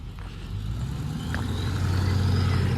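A truck rolling across a one-lane bridge, a steady rumbling engine that grows slightly louder and closer.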